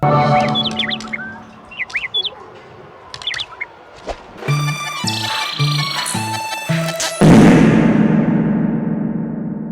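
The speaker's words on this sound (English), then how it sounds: "we could check the window where a bird shows up" Bird chirping at a window in the video game Rayman Raving Rabbids: loud, close tweets and short calls in quick bursts, followed by a rhythmic synthetic musical jingle and a bright noisy swell at the end.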